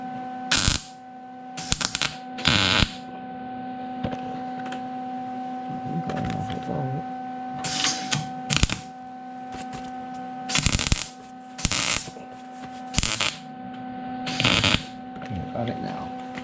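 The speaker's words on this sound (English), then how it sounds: "Weld that first." Welding on a 1969 Plymouth Fury quarter panel, with repeated sharp crackling bursts of tack welds spaced through the stretch over a steady hum, close by, with voices talking between welds.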